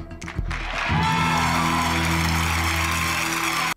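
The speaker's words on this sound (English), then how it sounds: "And then they're back to clapping when she keeps getting the money." A game show studio audience breaks into sustained clapping, a steady wash of applause that holds at even loudness for several seconds over a faint musical tone before cutting off abruptly.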